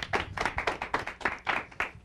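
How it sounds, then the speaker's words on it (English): A small studio audience at a televised debate show on virtual versus traditional schools claps steadily for a participant, a brisk run of close, evenly paced hand claps with no talking. "big round of applause for Gokul"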